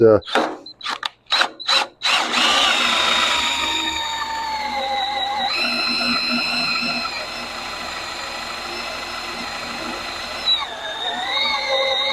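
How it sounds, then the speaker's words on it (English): A power drill whines steadily as it bores into a steel boxed frame rail, preceded by a few quick tool clicks, loud and close, with shifting pitch as the bit cuts. "to go through and drill the hole"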